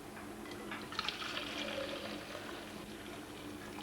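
Boiled milk being poured into a vessel for traditional Tibetan tea, a soft continuous liquid stream and fill sound, steady and close with no one speaking.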